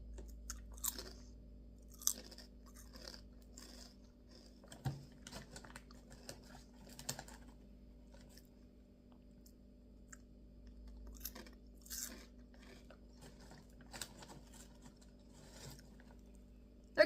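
Someone eats an extra barbecue-flavoured crunchy snack, close and quiet, with irregular crisp bites and chewing crunches spread over a near-silent background.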